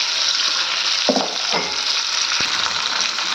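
Chopped ivy gourd (dondakaya) sizzles and fries steadily in a cast iron pan, with a few soft stirring scrapes over the constant hiss.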